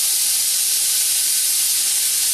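Beef mince frying in a pan gives a loud, steady bright sizzle and hiss, close up, with no talking.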